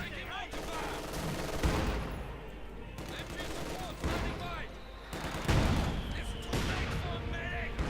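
MG42 machine gun fire in a Company of Heroes 2 battle, with repeated bursts of rapid gunfire and booming impacts amid game effects, punctuated by brief pauses.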